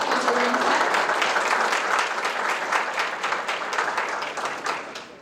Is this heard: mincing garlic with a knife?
no